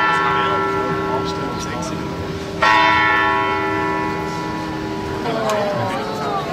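A clock tower bell rings out in Bern, Switzerland, its long sustained tones sounding loud and near, with a fresh strike about midway that renews the ringing over outdoor background noise.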